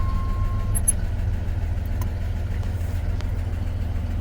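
A 1987 Jeep XJ engine idles steadily just after startup with a fresh alternator and battery, a continuous low rumble heard up close and alone, with a faint brief chirp near the start.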